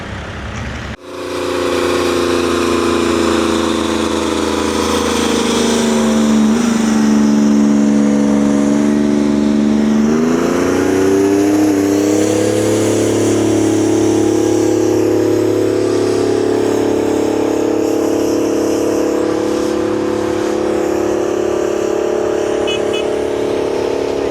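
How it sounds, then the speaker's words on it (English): A heavy tractor engine roars loudly nearby during a field demonstration at an antique tractor show, its pitch rising and falling as it works under load, then settling into a steady drone. "there's a muscle tractor or two here doing field demonstrations"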